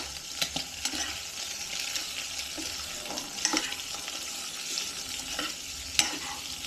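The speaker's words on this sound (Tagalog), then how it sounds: "Haluin muna natin ito mga otiks." Chicken liver and gizzard adobo with soy sauce is stirred in a sizzling pan, producing repeated scraping stir strokes over a continuous frying hiss, with no voices.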